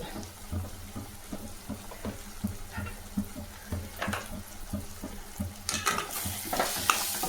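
Masala with pepper powder, garam masala and chili powder being sautéed and stirred in a pan for egg rice, a steady sizzle with repeated spoon scrapes and stirring strokes, close and moderately loud, no talking.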